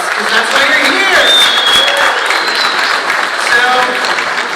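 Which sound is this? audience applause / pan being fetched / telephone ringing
audience applause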